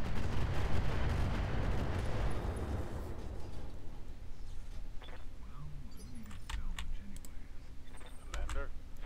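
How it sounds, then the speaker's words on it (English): Long-range missile salvo firing in the mech combat game Roguetech: a dense, loud rumbling barrage of launches and impacts for the first two seconds, then fading into softer scattered clicks and mechanical noises, with faint talk underneath. "Drop a pair of LRMs on this guy."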